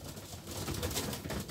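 A racing pigeon gives a soft, low, rolling coo, faint and close, lasting under two seconds with no other sounds over it.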